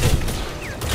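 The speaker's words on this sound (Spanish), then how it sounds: "¡Disparo!" Rapid blaster fire bursts out in the Star Wars Jedi: Survivor video game, loud and close, with a sharp sweeping zap partway through and a few clustered shots at the start and end.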